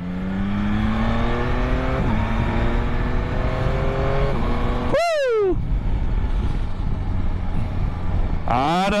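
A 2022 Yamaha Tracer 9 GT motorcycle engine drones steadily while riding, then rises in two sharp revving blips as it downshifts, loud and close throughout.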